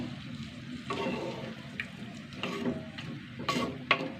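Gooseberry tamarind liquid poured into cooking beetroot in a pan, a soft wet splashing and stirring with a few brief sharper clinks, fairly quiet and close with no talk.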